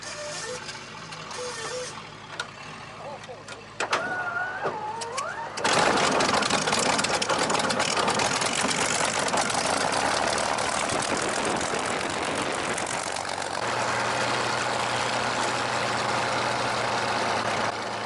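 A Spitfire's aircraft engine runs on the ground at an airshow on a hot summer day, a loud steady roar that swells abruptly after a quieter idle opening and holds near and constant throughout.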